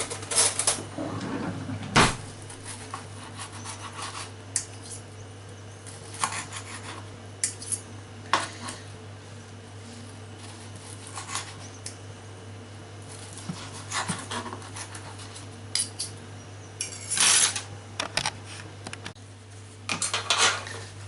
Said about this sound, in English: We need to cut the sausages into small pieces. I'll use a fork for this.